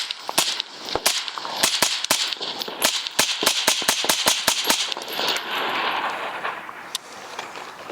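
A suppressed IWI Carmel rifle fitted with a Griffin M4 SDL suppressor fires a rapid string of about twenty sharp, close cracks, some in quick pairs, over a continuous hiss and clatter, with the shots thinning out toward the end.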